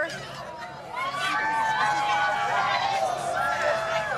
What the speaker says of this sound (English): let's listen to the crowd as this goes into totality